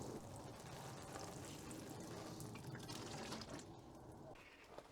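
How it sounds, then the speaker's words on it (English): Steady water pouring and trickling onto sugar snap pea seed trays, a soft continuous splashing like a watering can, fairly quiet and unbroken for several seconds. "And then we'll give that a water in."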